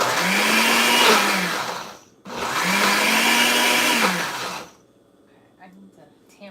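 A regular countertop blender whirs loudly while pureeing air-fried eggplant for baba ghanoush, running in two long bursts separated by a brief pause, then stopping, leaving faint kitchen clatter.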